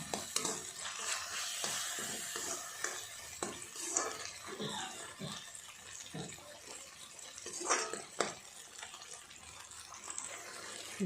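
Masala paste for a mushroom curry fries on a low flame, with a soft crackling sizzle. Frequent scrapes and clatters come from stirring, and a faint watery hiss runs through the whole stretch.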